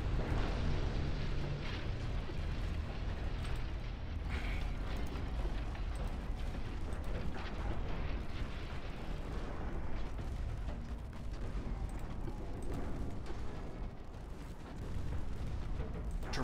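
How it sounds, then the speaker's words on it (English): Naval battle in the game Ultimate Admiral Dreadnoughts, with torpedoes striking an enemy cruiser: a continuous loud roar of explosions and gunfire rumbling throughout, dense and unbroken. "Massive torpedo hits on the enemy cruiser."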